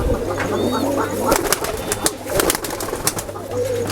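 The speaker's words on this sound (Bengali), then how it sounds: "এটা আপনার সিলভার কবুতর বলে" Pigeons, including a silver and a coffee-coloured bird, coo in low, throaty murmurs close by, mixed with intermittent clattering and rustling from the birds moving about.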